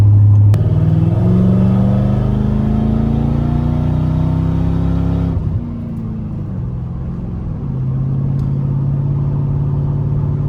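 A New Edge Ford Mustang GT drives along with a loud, close V8 engine note that climbs through the revs, drops abruptly as the driver shifts or lifts, then settles into a steady cruising drone.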